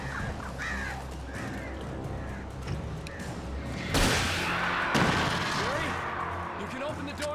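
Crows caw repeatedly in the Alan Wake Remastered video game, mixed with dense game ambience and a sudden burst of noise midway, and a voice talks over parts of it.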